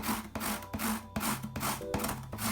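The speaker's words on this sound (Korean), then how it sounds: "당근도 강판에 갈아줍니다." A carrot is rubbed back and forth on a grater for sweet pumpkin pancakes. The rasping scrapes come close and rhythmic, roughly five or six strokes in quick succession with no talking.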